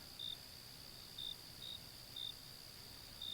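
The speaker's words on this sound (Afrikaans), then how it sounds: "Hulle hoor net hoe die krieke lawaai." Crickets chirp at night in a faint, steady series of short, evenly spaced trills over a soft background hiss, with no talking.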